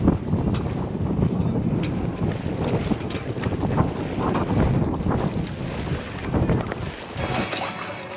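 A sailboat moves under sail on the Intracoastal Waterway, with steady wind buffeting the microphone and water rushing along the hull, continuous and fairly loud throughout, with no speech.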